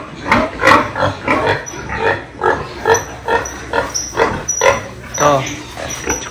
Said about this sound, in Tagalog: Ito ang mga 2 barako ko.